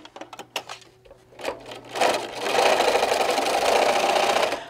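Sewing machine stitching down a pressed seam on a drawstring bag, starting after a few scattered handling clicks and then running steadily and loudly for the last few seconds.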